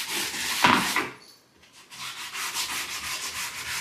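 Close hand sanding of wood cabinets, lightly scuffing the surface, rhythmic scratchy rubbing strokes with a brief pause partway through.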